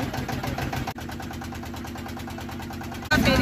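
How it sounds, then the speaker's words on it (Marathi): Small boat's engine running steadily throughout a short trip between Dabhol and Dhopave, a constant mid-pitched drone with a brief dip near one second and a louder burst at the end. "आता आम्ही जातो या छोट्या बोटीतूनच पुन्हा धोपावे"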